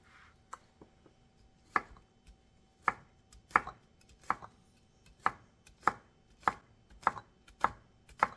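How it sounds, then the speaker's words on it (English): A kitchen knife slices through a bunch of green onions on a cutting board for homemade salsa, a dozen or so crisp, evenly spaced chops landing at a relaxed, steady rhythm in a quiet room. "I'm going to use an entire bunch of green onions. So I'm just going to start by just cutting up a couple right here."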